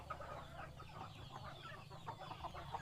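Native Thai village chickens cluck steadily at close range in a farm setting, with short repeated calls overlapping over a low constant background hum.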